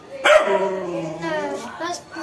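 A pet dog barks and yips close by in a child's home, the short bark coming over children's voices talking nearby.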